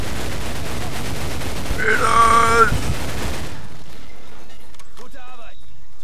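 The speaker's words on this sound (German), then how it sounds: "Ich tue mal Sperrfeuer." Suppressing gunfire in a Medal of Honor Pacific Assault battle rattles as dense continuous shooting for about three seconds. Someone shouts over the shooting, and then the fire stops, leaving quiet with faint voices.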